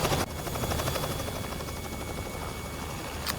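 Helicopter in a flight simulator game, flying near the Oshkosh 2020 airshow grounds, gives a steady, continuous rotor and engine drone, even and fairly loud throughout with no talking.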